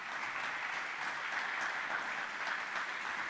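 Congregation in a church applauding together, a steady even wash of clapping held at moderate, fairly distant level throughout with no voices over it.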